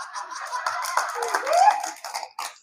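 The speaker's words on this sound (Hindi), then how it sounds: "पर ताली तो भरपूर बजा रहे थे" Audience applause at a Hindi comedy poetry gathering, a thin stretch of clapping hands, fairly close and steady, then thinning out near the end.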